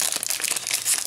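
Crinkly foil wrapper of a Yu-Gi-Oh! booster pack being torn and crumpled open by hand, close and bright, a burst of rustling crackles lasting about a second with no talking.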